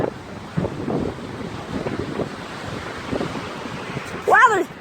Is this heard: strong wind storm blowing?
yes